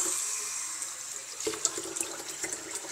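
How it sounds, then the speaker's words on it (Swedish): Cold water from a kitchen tap pours steadily into a sink, a constant hiss with a few splashes and clinks, close and fairly loud with no talk. "Man sätter igång kallvatten."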